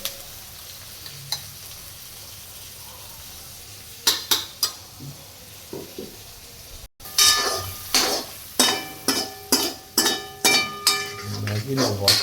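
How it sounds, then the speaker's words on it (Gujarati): Maggi noodles tempered in a hot pan with onion, chilli, tomato and turmeric, sizzling while a utensil scrapes and clinks rhythmically against the pan in a series of stirring strokes, with someone talking over it. "મેગીનો વઘાર થઈ રહ્યો છે"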